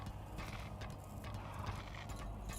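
Faint horse hooves clip-clop in the Lost Ark video game, a quiet steady patter of steps under a low background hum.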